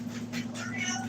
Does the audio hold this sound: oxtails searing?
no